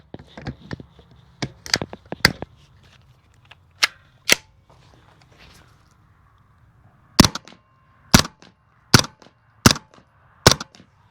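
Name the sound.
subsonic ammunition gunshots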